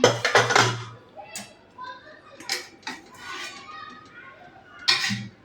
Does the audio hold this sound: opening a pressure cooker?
yes